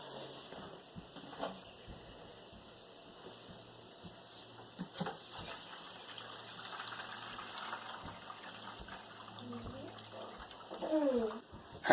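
Wort drains from a homebrew mash tun through a newly installed ball valve, a faint steady trickle with scattered splashes and a brief louder gush near the end.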